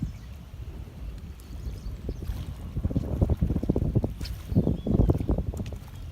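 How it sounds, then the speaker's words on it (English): Gusty wind buffets the microphone in low, uneven rumbles that swell and fade, with faint water sounds outdoors while fishing, and no voices. "Sorry about the wind,"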